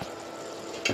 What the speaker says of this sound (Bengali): বাঁধাকপিটা না একটু ভাজা ভাজা মতন করি আমি